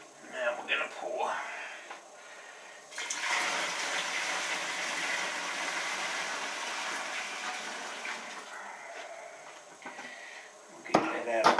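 Homebrewed dry lager wort pours out of a brewing vessel in a steady, hissing splash that runs for several seconds, with clinks and handling of equipment before and after.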